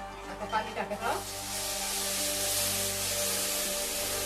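A short burst of sound gives way to loud, steady sizzling as spices hit hot oil for tempering a chun besan dish, hissing continuously up close.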